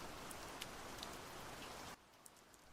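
Steady rain falls outside a farmhouse near a fountain and bench, a dense hiss with scattered drop impacts that abruptly drops to a quieter patter partway through.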